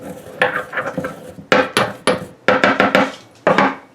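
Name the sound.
grinding dried celery in a mortar and pestle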